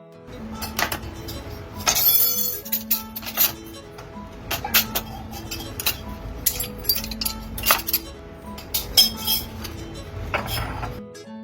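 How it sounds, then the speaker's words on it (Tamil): Two spoons beating eggs with spices in a bowl, clinking in quick, irregular bursts of bright metallic taps, close and alone for several seconds. "கொத்து வரப்பாவை போல் 2 கரண்டியில் நன்றாக அடிக்கவும்"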